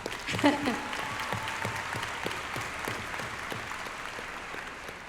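A graduation audience at the Community College of Rhode Island commencement claps in a dense, even burst at moderate level, with a voice briefly audible at the start beneath the applause.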